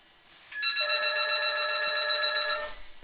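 A telephone bell rings in one sustained electronic trill of about two seconds, moderately loud, with a quiet room before and after and no speech.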